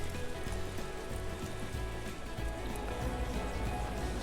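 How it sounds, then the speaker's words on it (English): Heavy rain pours down in a UK garden with koi ponds, a dense, steady hiss of drops drumming on surfaces, continuous and fairly quiet, with no voices. "it's bucketing it down with rain"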